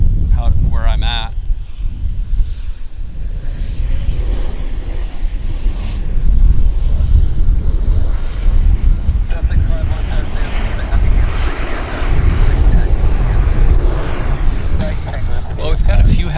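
Heavy airliners at Vancouver Airport, with a loud, steady jet engine roar and wind noise throughout, while someone talks over it.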